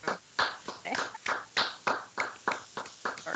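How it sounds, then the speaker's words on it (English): A few meeting attendees clapping at a commission meeting, sparse, uneven claps in a short burst, fairly quiet and close, with no talk over them. "Appreciate the claps"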